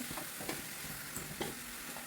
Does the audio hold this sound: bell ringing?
no